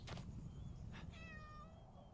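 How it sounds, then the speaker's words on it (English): A cat meows in the Shroud of the Avatar video game, two short meows followed by a longer drawn-out one, clear and close over a low background hum. "Meow."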